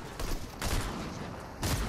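Gunfire in a duos cash cup match of a battle-royale video game comes as several quick bursts of close shots, separated by short gaps.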